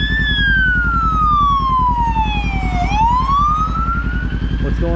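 A police car siren wails loud and close, sweeping down then rising again as it passes, over a steady low engine rumble on a street in a small town.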